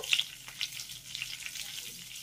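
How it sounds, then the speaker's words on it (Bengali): Whole spices with green chillies and ginger frying in hot oil in a pan for a soybean dish, giving a steady close sizzle with brief crackles, alone without talk. "এবার আমি ফোড়নগুলোকে হালকা করে একটু ভেজে নেব।"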